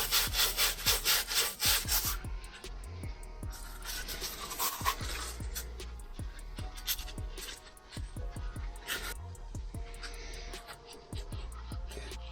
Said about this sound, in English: Using very fine sandpaper.